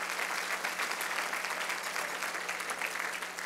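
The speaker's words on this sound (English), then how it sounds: "let's give them all a round of applause." Dense, steady audience applause at a civic State of the City event fills the whole stretch at an even, fairly loud level, with no talk over it.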